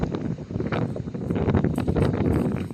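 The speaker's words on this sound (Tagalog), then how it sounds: "Lakas ng hangin." Strong wind at Aningalan roars steadily across the microphone with gusty buffeting and rustling, loud and continuous, no one speaking.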